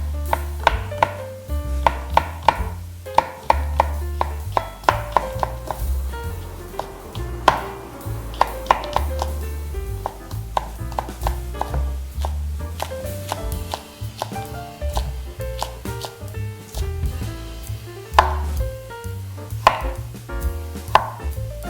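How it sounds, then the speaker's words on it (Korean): A kitchen knife cuts into vegetables during preparation of royal court japchae, giving repeated crisp chopping taps on a board, steady and close, over a faint background hum. "살짝 칼을 넣어 주신 다음에 배를 갈라서"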